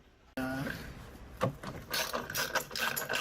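A ratchet clicks steadily while removing screws from the painted black OEM subplate of a jet ski, with bursts of rapid pawl clicking and some handling noise up close.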